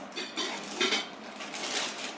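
Metal cooking pot for dal and rice being handled, with a few light clinks and scrapes of metal against metal, close and fairly quiet, no voices.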